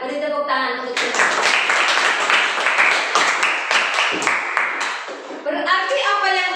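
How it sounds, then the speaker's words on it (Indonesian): A church congregation claps together in praise, a dense burst of hand claps lasting several seconds, framed by a voice speaking just before and just after. "Beri tepuk tangan untuk Tuhan."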